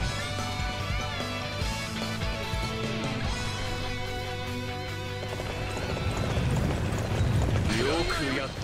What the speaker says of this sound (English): Two horses and a swordsman.